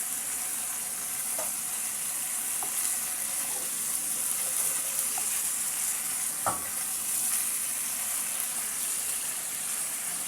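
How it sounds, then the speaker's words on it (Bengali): Chicken pieces fry in a pan and get turned over, giving a constant close-up sizzle with occasional scraping stirs and soft knocks. "আমি এবার মুরগির মাংসগুলোকে সুন্দর করে উল্টে পাল্টে দিচ্ছি, যেন সুন্দর করে ভাজা হয়।"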